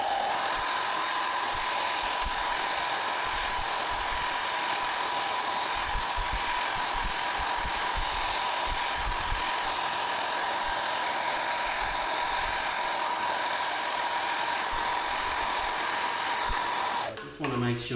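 A hairdryer heats adhesive tape on a Suzuki GSX motorcycle visor screen, giving a steady, loud whirring hum that runs unbroken until it cuts off near the end.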